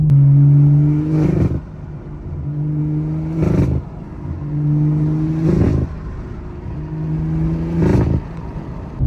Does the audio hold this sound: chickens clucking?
no